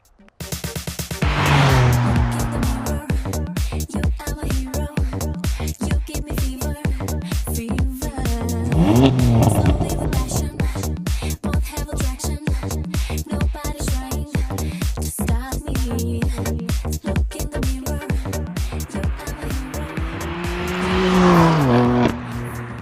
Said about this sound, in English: bought myself a 2015 BMW M4 as my new daily driver